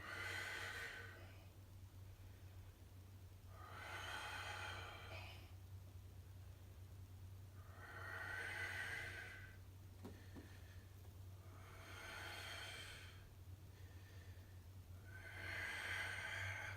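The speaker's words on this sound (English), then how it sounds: "I'm gonna breathe here" Slow, deep breaths held in a yoga warrior pose. Four or five long airy inhales and exhales rise and fall in an even rhythm, faint and close, over a low background hum.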